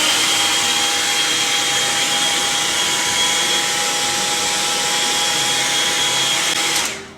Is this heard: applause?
no